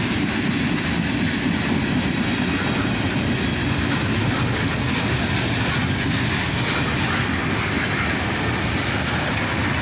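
CSX freight train led by an S44DC locomotive with an AC44CW behind rumbling steadily past at close range, with a continuous roar and rhythmic clickety-clack of wheels over rail joints.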